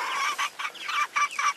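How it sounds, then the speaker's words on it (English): Twenty half-grown chickens on a grassy pasture give a quick run of close, bright clucks and peeps, several short calls overlapping in an irregular rhythm. "That's 20 half-grown chickens."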